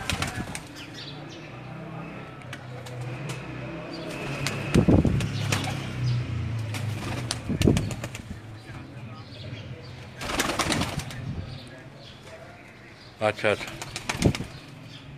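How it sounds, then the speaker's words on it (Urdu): Sialkoti pigeons in a cage flap their wings in several loud bursts, with faint cooing underneath and a voice talking nearby. "یہ کبوتر ہیں کوئی، ان کے سیالکوٹی اسٹاف ہے"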